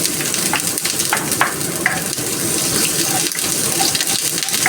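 Onion frying in hot cooking oil in a wok-style pan: a dense, loud, continuous sizzling hiss with scattered crackles and pops, no voices over it.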